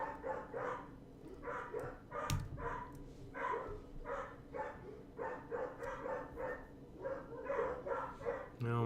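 A neighbor's dog barks repeatedly in a steady run of sharp woofs, fairly close and loud, going on through most of the stretch while a person talks in the room.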